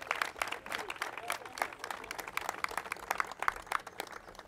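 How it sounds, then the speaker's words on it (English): Audience applause at an outdoor news conference for a new playground opening, honoring city park and recreation staff and rangers; steady crowd clapping with sharp individual claps throughout, moderately distant. "Please give them all a applause, guys."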